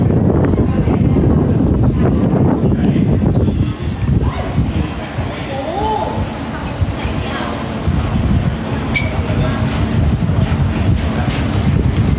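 Strong wind buffets a microphone outdoors at a photo spot, a loud constant low roar throughout, with voices talking over it briefly.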